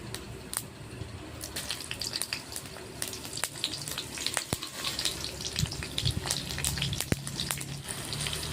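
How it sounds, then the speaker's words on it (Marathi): Green chillies fry in hot oil with mustard seeds, producing a continuous close sizzle full of sharp crackles and pops throughout. "मोहरी तडतडली की मिरची टाकायची आहे।"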